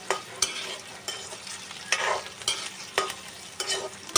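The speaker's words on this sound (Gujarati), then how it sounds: "તો પહેલાં આને ઘડી સળવા દેવાના છે" Large-cut chopped onions sautéing in a pan for an egg curry gravy, a close hissing sizzle broken by repeated rhythmic stirring scrapes every half second or so, with no talking.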